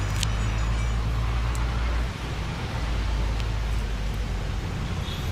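A truck pulling into busy street traffic, blended into a steady, loud roadway rumble of passing cars with low engine drone throughout and no clear single approach.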